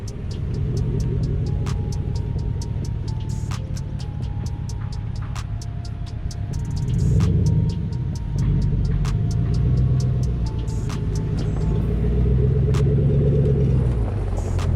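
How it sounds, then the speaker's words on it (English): A truck engine rumbles steadily and close by as the truck is pulled in, its low throb swelling midway, with faint clicks and ticks over the hum and no talk. "Let's go ahead and pull the truck in"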